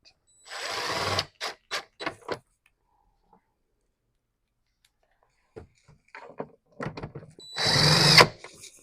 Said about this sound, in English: I like to use my drill because it's quicker